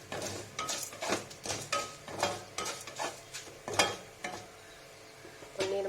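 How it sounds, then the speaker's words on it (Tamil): Dried red chillies fry in a pan while a utensil stirs and scrapes in quick, uneven strokes, the clatter riding over a light sizzle. "இங்கே வரமிளகாய் போட்டிருக்கேன். நல்லா வணக்கணும்."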